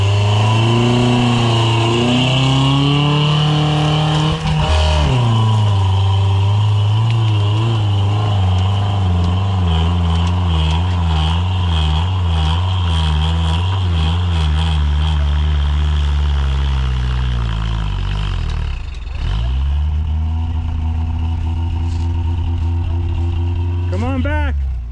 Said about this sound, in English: Get it throttled up.